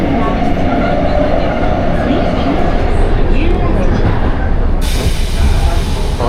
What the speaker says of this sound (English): the metros are literally the quietest metros I've ever been on